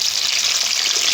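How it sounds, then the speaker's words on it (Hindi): Cumin seeds sizzle in hot oil in a pan for a tadka, a bright, steady hiss heard up close and uninterrupted. "पैन में ऑयल ले लेंगे, उसमें 1 टीस्पून ज़ीरा डाल लेंगे।"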